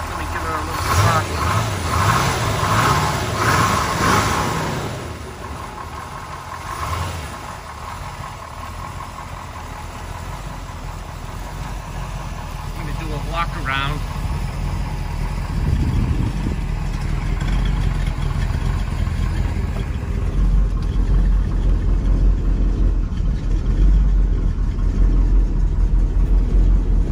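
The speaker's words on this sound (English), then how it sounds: "6 inches away from the motor, so you can hear how beautiful it runs" A 1963 Corvette split window engine idles close up on a cold start, a steady, loud low rumble running throughout, with a human voice present at times.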